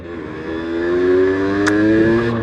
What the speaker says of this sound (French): J'ai réglé la moto, parce que la moto était très mal réglée.